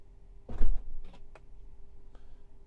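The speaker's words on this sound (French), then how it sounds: "un appui long sur le dernier bouton va ouvrir la porte arrière droite" The rear right door of a Tesla Model 3 or Model Y opens after a long press on a button, giving a soft thump followed by a few faint clicks and a light latch sound nearby.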